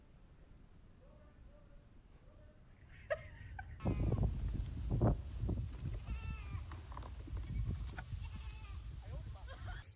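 Fainting goats, a rare breed with a genetic muscle-stiffening disorder, bleat in short calls, first faint and isolated, then amid louder background noise and voices.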